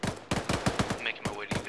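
Automatic gunfire from an infantry firefight in the military shooter Arma 3, a run of rapid, loud shots in quick succession with brief gaps between bursts.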